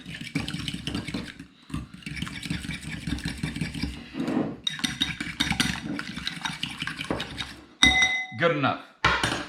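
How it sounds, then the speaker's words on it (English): A fork mixing something in a bowl while deep-fried Pit Boss smoked ribs are prepared, with rapid scraping and clinks of metal against the dish, close up, interrupted by brief pauses and a few louder knocks near the end. "we're going to take that fork, we're going to mix that up, because we need to coat"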